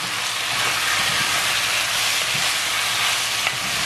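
Chopped tomatoes stirred into onions frying in a pan for a dry fish coconut milk curry, producing a loud, steady, close hiss of sizzling that runs unbroken throughout, with no voices.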